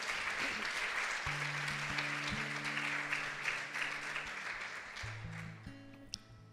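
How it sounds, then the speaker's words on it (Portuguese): Congregation applauding the Lord during a church prayer gathering, a broad steady wash of clapping throughout with sustained organ or keyboard chords underneath. "Vamos aplaudir ao Senhor."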